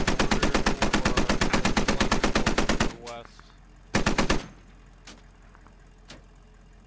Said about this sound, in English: Back on the Humvee, slaying some fire down here.